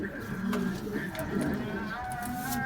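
An old pigeon coos in a loft, soft repeated low coos running through the whole stretch alongside other birds' calls, while people talk nearby.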